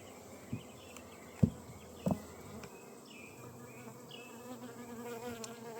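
Honey bees buzzing steadily around a hive in a greenhouse, a continuous droning hum with a few louder close passes and soft knocks.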